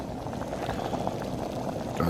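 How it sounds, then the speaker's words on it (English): A pot of pasta water boils on a camping stove at a carp fishing session, a steady close bubbling and hissing that runs continuously with no pauses. "Pasta's bubbling away."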